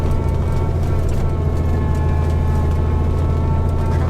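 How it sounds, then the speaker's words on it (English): Steady, loud road traffic rumble heard from inside a moving 1963 Chevy Corvair on a rally, a continuous low drone with no distinct passing vehicles standing out. "Traffic."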